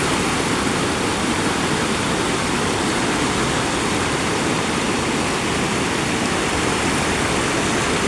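Floodwater rushing with a loud, dense, unbroken roar, close and steady throughout with no other sounds breaking through.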